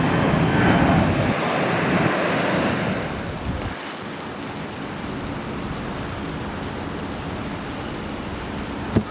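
A Southwest airliner takes off at Kansas City airport, its loud roaring engines rushing close by and then fading into a steady distant rumble, with wind noise on the microphone.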